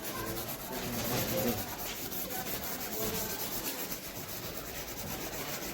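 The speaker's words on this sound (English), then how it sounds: "we need to scrub the PCB board, so that we can remove all the particles, dust particles" Steady abrasive rubbing as a single-sided copper-clad PCB board is scrubbed clean of dust particles, a continuous close scratching texture with no pauses and no voices.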